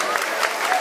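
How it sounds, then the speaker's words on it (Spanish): A short burst of audience applause at a live evening event, a dense, steady wash of clapping heard alone with no voices. "fuerte los aplausos, fuerte las palmas"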